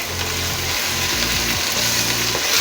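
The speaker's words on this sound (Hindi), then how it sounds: "मसाले को अच्छी तरह से भून लें, तकरीबन 5 से 10 मिनट तक" Tomato masala frying in a pan, a loud, close, continuous sizzle with faint stirring scrapes and no talking.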